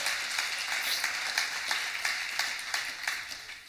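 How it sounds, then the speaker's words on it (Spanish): A church congregation applauds together, with steady, fairly faint clapping and a few stronger bursts standing out through a continuous wash of hands. "dar un aplauso a Dios por su bondad y su misericordia"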